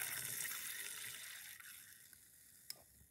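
Tap water runs into a sink while a container is rinsed out after a cream of tartar test, a faint, steady hiss that slowly fades, with a few small clinks near the end.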